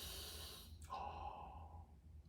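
A singer draws in a breath, a soft airy inhale with a brief sharper gasp partway through, quiet and close, with no voice or other sound over it.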